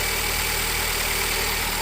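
A Nissan X-Trail T32 engine with a charging system fault idles steadily, a continuous close, loud mechanical hum and hiss with no speech over it.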